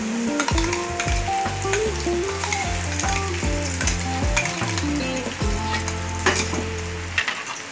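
Onion with ginger-garlic paste sizzles loudly in a pan for a dhaba-style masala chicken while a utensil stirs and scrapes the mixture in repeated strokes, close up with no talking.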